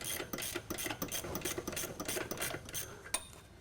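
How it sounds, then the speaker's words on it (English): Ratchet spanner loosening stem bolts on a Graco Xtreme airless sprayer, a close, rapid run of clicking and rasping ratchet strokes with no voice. "What I'll do is I'll undo them with a ratchet spanner."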